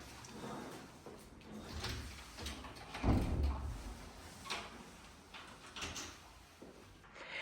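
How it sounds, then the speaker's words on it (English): An apartment door in a St Andrews flat is unlocked with a key in the deadbolt above the handle and opened: quiet close metallic clicks and rattles, a heavier thunk near the middle, then a soft creak and shuffle. "put the little key in the deadbolt above the handle, and you'll turn the handle down at the same time"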